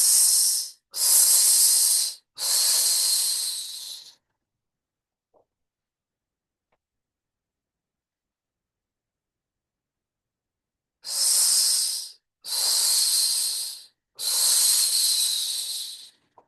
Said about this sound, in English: let's come back to that hissing breath